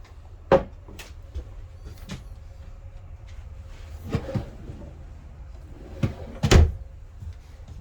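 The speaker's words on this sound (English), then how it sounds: "these are all self-closing hinges for all your cabinets" Self-closing cabinet doors in a 2022 Forest River Sierra 3440BH RV clack shut in a series of sharp knocks and softer thuds, scattered across a quiet interior, with a few louder bangs near the end.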